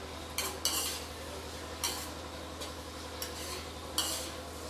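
A utensil stirs garam masala into paneer bhurji in a pan on a gas flame, sending several brief scraping strokes against the metal over a low background hum.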